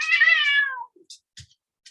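A house cat lets out one long, close, loud meow that slides downward during a scuffle with a dog, followed by a few faint scattered clicks and thumps.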